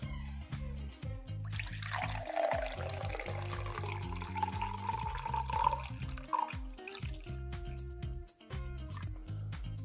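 About 150 millilitres of tap water trickles and splashes into a container for several seconds, a continuous pouring sound with a rising gurgle, set against a low hum.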